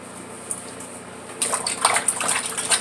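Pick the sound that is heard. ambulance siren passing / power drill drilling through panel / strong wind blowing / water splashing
water splashing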